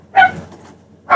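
A dog indoors gives two sharp, loud barks about a second apart, alone, with no speech.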